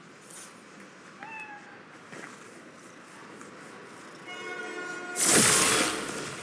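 A cat meowing in the video game Marvel's Spider-Man Miles Morales, a couple of short mews amid quiet game ambience, followed by a sudden loud burst of noise near the end.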